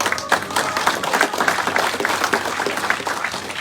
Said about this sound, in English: Please let us put together a big round of applause to ourselves